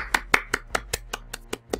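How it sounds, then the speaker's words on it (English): Slow, polite hand clapping, about nine evenly spaced claps of moderate loudness over a faint low hum, close by with no talking. "That is a golf clap."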